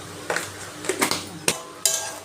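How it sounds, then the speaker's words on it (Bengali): Masala sautéed and stirred in a pan for a paneer and pointed gourd dish, with several sharp metallic scrapes and clinks of a spoon against the pan over a low sizzle. "নাড়িয়ে চাড়িয়ে খানিকক্ষণ কষানো হয়ে গেছে"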